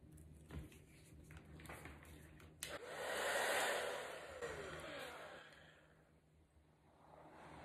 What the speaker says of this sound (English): then we'll do the hair dryer on this one